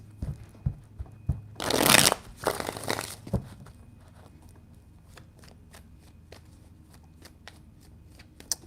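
A deck of tarot cards is shuffled up close, with a burst of rapid riffling flutter followed by a second shorter riffle, then scattered light card taps and clicks in a quiet room.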